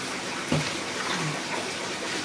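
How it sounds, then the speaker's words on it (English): Cleaned cane toads drop into cold salted water, a brief splash followed by a soft continuous wash of water, close and moderately loud. "Then I put them into this cold salted water."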